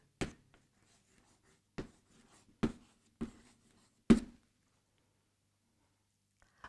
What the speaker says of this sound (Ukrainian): Пишемо в перший стовпчик